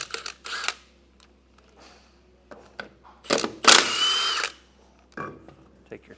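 Lug nuts on a trailer wheel being broken loose with a socket, heard as close clunks and ratcheting bursts, one longer loud grinding spin in the middle, separated by quiet gaps.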